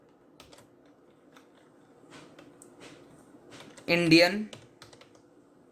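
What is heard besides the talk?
typing code on a computer keyboard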